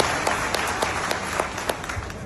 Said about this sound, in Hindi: जोरदार ताली के साथ पहले प्रस्ताव को पारित किया जाए